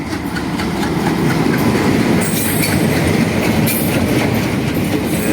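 A train entering a station rumbles steadily and loudly close by, wheels clattering on the rails with brief high metallic squeals, no voices.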